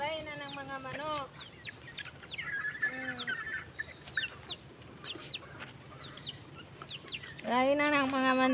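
A flock of chickens clucking and squawking at feeding time, with a rooster-like call near the start and close, busy fowl chatter throughout; voices are heard among the birds.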